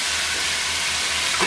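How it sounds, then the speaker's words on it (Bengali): Eggplant being stir-fried in a pan for a Bangladeshi curry, a dense steady sizzle with a low rumbling hum underneath, close and continuous over a short stretch, no voices. "এখন আমি বেগুনটাকে কষাচ্ছি"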